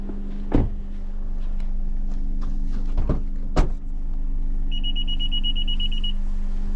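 A rapid series of high electronic beeps sounds inside a car over a steady engine hum, warning that the tailgate is still open, following a few loud thumps like a door or tailgate.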